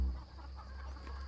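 Swampy's chickens cluck softly in a short burst, close by and fairly quiet, over a steady low hum.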